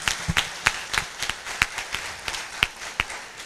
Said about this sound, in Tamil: நம்மளோட இப்போ பலத்த கைத்தட்டல் மூலியமாக அவங்களுக்கு ஒரு பெரிய பாராட்டை தெரிவிச்சுக்கலாம்.